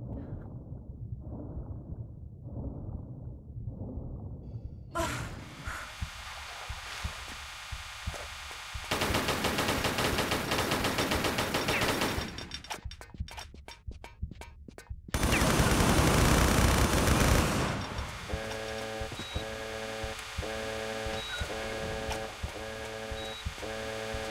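Enemy gunfire in the video game Tomb Raider III comes in loud rapid bursts, with dense stretches of automatic fire mixed with game music and sound effects and no talk.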